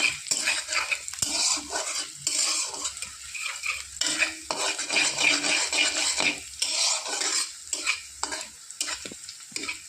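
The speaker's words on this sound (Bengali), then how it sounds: "পেঁয়াজটা একটু লাল করে ভেজে নেব" Chopped onions frying in a pan for a jute leaf curry, making a bright, steady sizzle broken by frequent stirring scrapes and clinks of a spatula against the pan.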